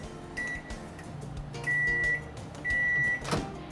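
A fast-food self-serve microwave blending and heating a Cold Cow milkshake gives off a steady low hum, with several sustained electronic beeps and a clunk near the end, fairly quiet and close.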